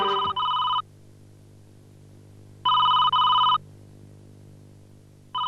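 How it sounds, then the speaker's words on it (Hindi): A telephone rings in two bursts of a bright electronic tone, each lasting under a second, with a gap of silence between them and a third ring starting at the end. No one speaks over it. "ये जरूर जय का ही फोन होगा।"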